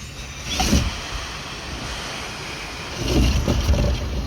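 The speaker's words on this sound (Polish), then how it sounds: "Słyszycie? Wodospad." Rainwater gushes into an IBC rainwater tank like a small waterfall, a steady broadband rushing that swells louder near the start and again toward the end, with no talk over it.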